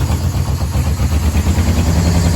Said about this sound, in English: Running on choke, so I think the carburetor needs to be clean.